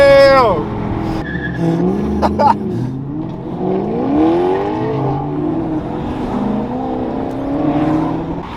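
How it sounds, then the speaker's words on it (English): Modified cars at a car meet, with a loud close rev and squealing tire skids that rise and fall over several seconds, followed by rumbling engines, while people talk excitedly nearby. "It sounds like a race circuit out here"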